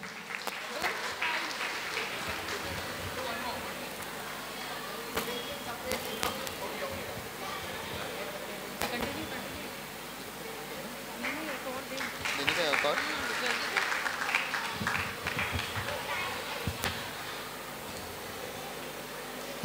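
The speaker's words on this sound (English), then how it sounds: "A big round of applause for both of them." Audience applause at a church silver jubilee cultural evening, moderate clapping that swells and fades across the hall with voices talking throughout.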